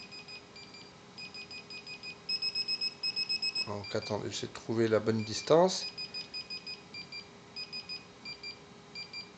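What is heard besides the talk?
dog anti-escape fence collar beeping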